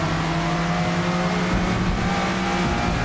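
Lotus race car engine in Forza Motorsport at Mugello in the rain, a loud sustained high-revving whine with layered harmonic tones throughout the short stretch.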